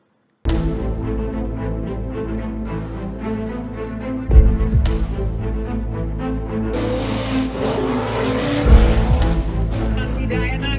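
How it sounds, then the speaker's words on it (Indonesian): Several 4WD off-road cars roar through a dirt arena in Jember, East Java, engines revving loudly and continuously with surging bursts and tire noise, close by and without talk. "Suara mesin mobil 4WD meraung-raung di arena off-road"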